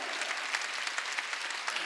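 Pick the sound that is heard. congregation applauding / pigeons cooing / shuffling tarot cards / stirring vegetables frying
congregation applauding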